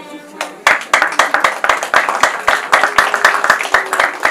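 Hands clap steadily and briskly from an audience at a Rwandan wedding, a dense, close burst of applause starting abruptly and continuing throughout.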